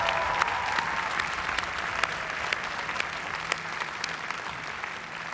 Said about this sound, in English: So let's have a round of applause for them too.